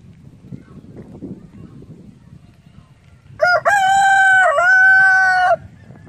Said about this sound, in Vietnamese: Còn mấy con gà nó nhóc con này.